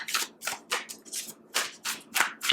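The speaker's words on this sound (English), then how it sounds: "I have to shuffle more because it was very difficult to shuffle here at this point" A deck of tarot cards being shuffled by hand, about eight quick riffling bursts in an uneven rhythm, close and crisp, with short pauses between them.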